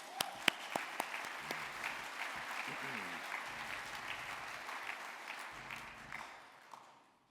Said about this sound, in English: You deserve another round of applause.